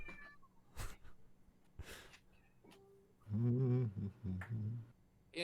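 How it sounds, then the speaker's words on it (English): A cat meows loudly and up close, a drawn-out cry followed by a couple of shorter meows, after a few faint clicks and rustles. "I hear a cat"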